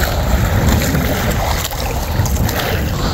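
A small boat's outboard motor runs after a carburetor repair, a loud steady drone mixed with wind and water noise, close and continuous with no talk.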